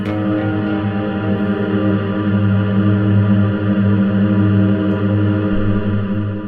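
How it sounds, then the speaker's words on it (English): An electric guitar runs through a Klowra Limbo reverb pedal held on infinite trail, giving a loud, steady, dense wash of sustained chord tones that drones on unbroken without fading. "it will let the reverb trail infinitely."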